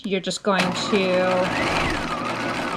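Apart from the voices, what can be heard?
sewing machine stitching a pleat on a swing coat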